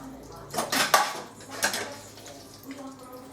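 A kitchen chopping board is slid aside, with a few close clattering knocks of board, dishes and utensils in quick succession, then a quieter tail of faint rattles.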